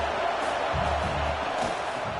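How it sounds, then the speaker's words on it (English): A stadium crowd roars during a college football video game between Alabama and Oklahoma, a dense, sustained wall of cheering at a steady level throughout. "this crowd is turning it up a notch"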